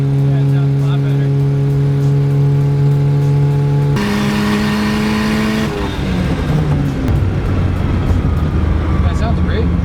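A turbocharged car engine fitted with a homemade back-yard turbo dump pipe revs hard under boost, its loud droning note stepping up in pitch, then dropping into rough, choppy rumbling; a voice speaks over it.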